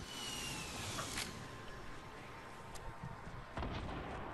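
Fortnite gunfire crackles in scattered, fairly faint shots against a steady background hiss, with one sharper report near the end.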